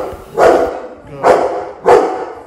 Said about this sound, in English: It's important that the dog starts to understand the power of his bark